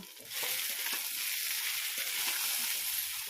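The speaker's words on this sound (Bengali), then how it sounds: "আর পোস্ত দিয়ে ভালো করে কষিয়ে নেব" Spices and poppy seed paste with ginger and green chillies frying with vegetables for shukto, a steady bright sizzle with faint stirring scrapes running throughout, close and fairly loud.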